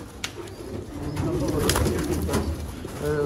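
Sialkoti teddy pigeons with feathered feet coo in soft, repeated throaty bursts at close range, with handling noises and faint background sounds around them.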